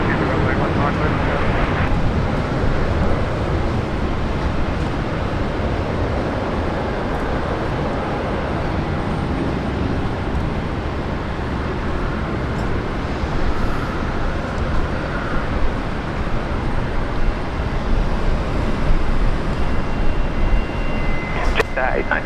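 Jetstar A320 airliner taking off from runway 19 left at Brisbane Airport, a steady broadband engine roar that holds loud and even throughout, with faint background noise and no clear voices.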